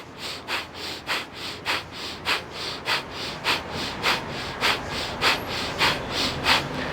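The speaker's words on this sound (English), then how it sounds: "keeping your arms straight while continuing with a steady pace of the breath of fire" Rapid breath-of-fire breathing exercise, quick forceful nasal exhalations in a steady rhythm of roughly two per second, close and clear with no talking.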